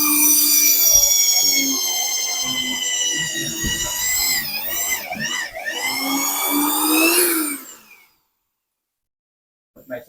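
A power drill boring into a piece of wood during home building work, a loud sustained whine with a few shifts in pitch as the bit bites, close by, then cutting off into silence.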